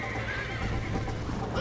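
Horse in Red Dead Redemption whinnies loudly over steady hoofbeats, a close, continuous neigh with clip-clop underneath and a voice faintly mixed in.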